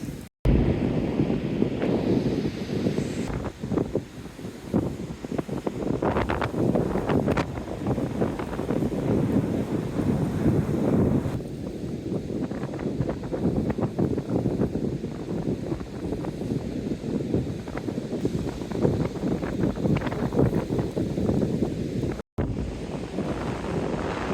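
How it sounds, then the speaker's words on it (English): Strong wind buffets the microphone in a constant roar on a beach at Goleta, with the faint wash of surf underneath throughout. "it is super windy"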